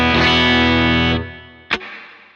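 A bass guitar through a Line 6 unit with a little hall reverb holds a thick, buzzy note, then cuts off with a short reverberant tail, followed by a sharp brief plucked attack that also decays into the space.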